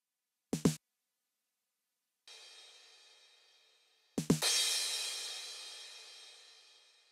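A tuned 909 drum machine snare fires a quick two-tap, followed by a cymbal wash, then another two-tap leading straight into a bright crash cymbal that rings out and fades slowly, all alone.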